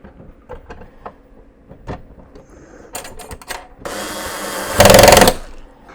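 Power screwdriver driving screws into a bracket on a Lancaster bomber scale model: short taps and clicks, then a sustained whirring motor burst near the end, loud and close.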